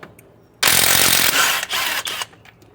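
Socket wrench turning a front strut bolt on a 2004–2006 Scion xB gives a loud, close burst of rapid ratcheting that lasts under two seconds, with short breaks, then stops.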